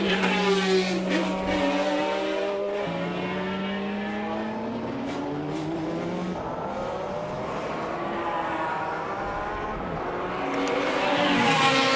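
Twelve McLaren F1 GTR race cars circulate at Goodwood, their engines forming a loud, sustained multi-layered drone that rises and falls in pitch as the cars pass and accelerate, with no pauses.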